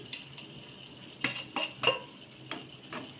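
A utensil stirs grated coconut frying in ghee in a pan, producing quiet, irregular scrapes and clinks against the metal, with several distinct knocks in a cluster midway; no speech.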